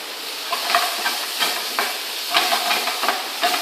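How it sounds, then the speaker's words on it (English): Tomato concasse cooking in a pan, a steady bubbling sizzle with soft intermittent stirring clicks, close and alone. "our tomato concasse is cooking"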